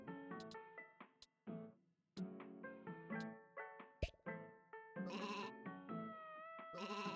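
Sheep in a video game bleat repeatedly, short wavering cries coming one after another, clear and fairly close, sometimes overlapping.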